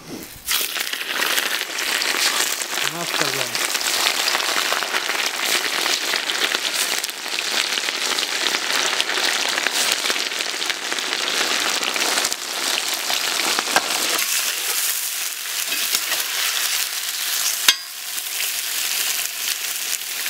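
Loud, dense, continuous sizzling of small lamb pieces frying in a new cast-iron cauldron, a steady crackling hiss that barely changes throughout.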